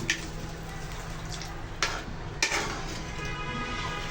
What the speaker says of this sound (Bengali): জল ঢেলে দেওয়ার পর এখানে ভালোভাবে একটু নাড়াচাড়া করে নেবেন।